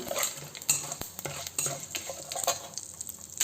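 Urad dal frying in a pan for Andhra gongura pachadi, with quiet sizzling under frequent light stirring taps and scrapes of a spoon against the pan.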